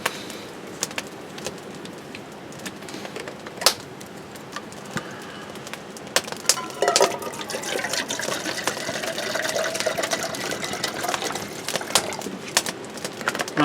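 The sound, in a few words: filling a kettle with water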